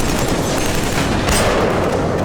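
Dense, loud gunfire fills a Killzone 3 battle, a continuous fusillade of overlapping shots and blasts with no pause across the short stretch.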